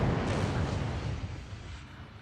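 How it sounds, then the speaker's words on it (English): Naval gunfire striking warships in Ultimate Admiral Dreadnoughts, a deep booming impact with a rumbling, fading tail over about two seconds. "And I cannot take this gunfire"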